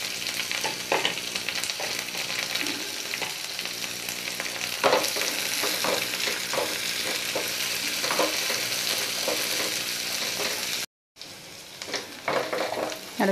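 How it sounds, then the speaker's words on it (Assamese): Stirring ingredients with whole cumin in a frying pan for a dosa breakfast recipe brings a steady close sizzle with frequent scraping and tapping strokes, then a brief gap of silence near the end before the sizzle resumes. "আৰু এতিয়া মই এইখিনি ভালদৰে লৰাই দিম"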